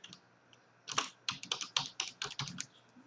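Rapid keystrokes on a computer keyboard, a close run of crisp clicks in quick rhythm after a quiet start, with no talking.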